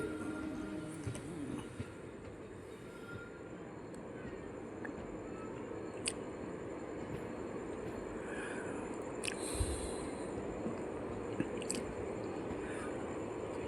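A Bhuj–Rajkot summer special passenger train runs along the line, a steady rumbling roll with rattling wagons and occasional sharp squeals and clanks, heard from inside at moderate loudness for the whole stretch.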